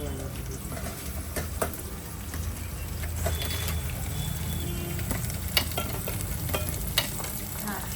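Tomatoes frying with browned onions in a pan for Maggi noodles, a steady close sizzle with occasional stirring clicks throughout.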